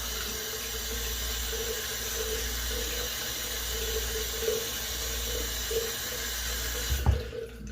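Water runs steadily from a tap into a sink for washing the face, a constant close splashing flow with a small knock near the end.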